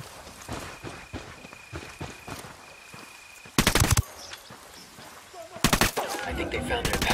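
Automatic rifle gunfire in the Ghost Recon Wildlands video game, with two loud, close bursts standing out over quieter background game sounds and faint scattered clicks.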